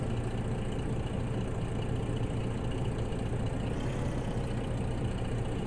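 Semi truck engine idling in a farming video game, a steady, dense low rumble that holds without change throughout.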